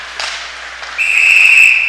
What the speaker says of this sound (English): Oh, another whistle coming up again.